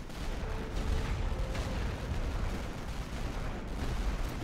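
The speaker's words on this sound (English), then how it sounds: "they're already sending artillery at me" Artillery fire in the World War I strategy game The Great War: Western Front, a dense continuous rumble of distant shelling and gunfire rolling on without pause.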